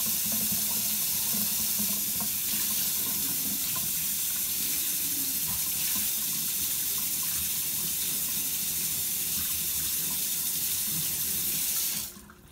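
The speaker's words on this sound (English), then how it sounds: "I'm going to put the mold under the hot water just for a few seconds." Hot tap water gushes steadily into a kitchen sink over a popsicle mold, a loud, continuous splashing stream with no voices that cuts off abruptly near the end.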